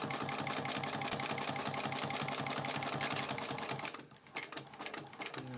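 A sewing machine stitches fabric in a fast, steady mechanical rattle for about four seconds, then stops, leaving a few quieter clicks and handling sounds.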